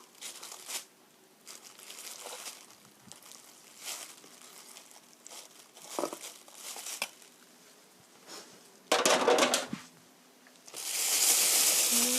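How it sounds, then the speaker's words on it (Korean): Chicken pieces drop into a plastic bag, which crinkles and rustles in irregular bursts, ending in a louder stretch of rapid shaking and tossing, with no talking. "비닐팩에 닭고기 넣어주세요."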